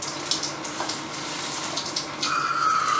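Water pours into a pot of unrinsed rice, about one and a half cups for the same amount of rice, making a steady close splashing gush that grows slightly fuller toward the end.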